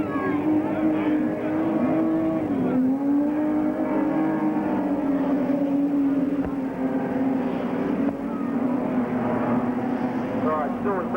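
Race cars roar steadily at Western Speedway in Hamilton during a 1990 race, a loud continuous engine drone with shifting pitch as cars pass, under a commentator's voice.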